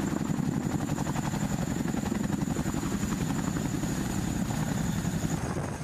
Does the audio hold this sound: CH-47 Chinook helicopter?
yes